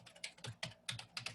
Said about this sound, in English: I'm typing out her email in the chat right now.